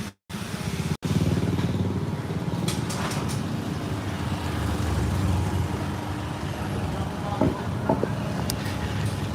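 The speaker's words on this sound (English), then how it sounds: "Every 2 seconds there's someone up my ass with a motorcycle." Motorcycles and other vehicles passing in busy Southeast Asian street traffic, a constant mid-level engine rumble with scattered louder passes and a few faint horn-like blips, with brief cuts near the start.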